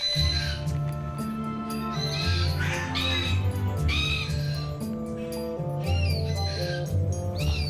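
Black cockatoos at a refuge for sick and injured birds in the Perth Hills give repeated harsh squawks, several calls rising over a steady low background hum.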